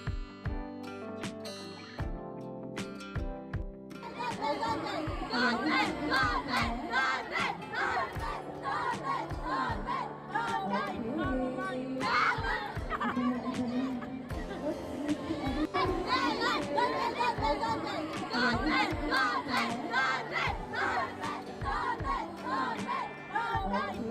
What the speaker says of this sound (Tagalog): hinay pa nga niya ang manonood na sumigaw ng Don Belle